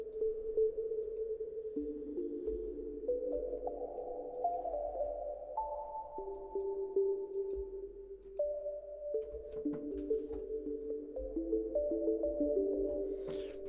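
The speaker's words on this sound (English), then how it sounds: "You basically just want to put on a stupid amount of reverb." A soft synth pad in Serum, Massive or Harmor holds slow, sustained chords drenched in a very large amount of long, washy reverb, the notes blurring into each other with no voices present.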